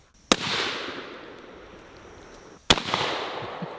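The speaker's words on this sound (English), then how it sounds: "Let's see how these pumpkins stand the shotgun." Two loud, sharp shotgun blasts fired at pumpkins outdoors, each a sudden crack with a short echoing decay, spaced a little over two seconds apart.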